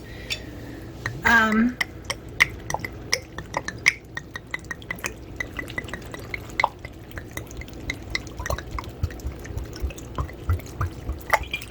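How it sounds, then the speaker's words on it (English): Water poured from bottles into an Instant Pot for bean soup, heard as a close, steady run of splashes and drips with light ticking and clinking. A voice is briefly heard near the start. "So that's 6 cups of water. That's all the water we need."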